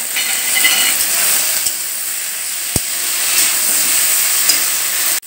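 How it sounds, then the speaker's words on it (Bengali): Lata stir-fried with onion and garlic paste in hot oil gives a steady, loud sizzle and hiss, with a few sharp spoon taps against the pan. "পেঁয়াজ রসুন বাটা দিয়ে এইভাবে লতাটাকে ভালো করে কষিয়ে নেবেন"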